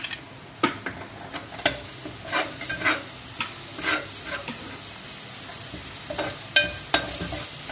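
Masala for chana dal roasting in a pan: a spoon scrapes and stirs in irregular strokes over a soft, continuous sizzle, close up and with no voices.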